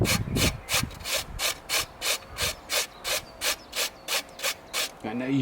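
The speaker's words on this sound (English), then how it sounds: "bring things forward a little by grating this carrot in now" A carrot grated by hand for a Kong dog feeding toy, about a dozen evenly spaced rasping strokes up close, each a short scratchy scrape, followed by a brief voice at the end.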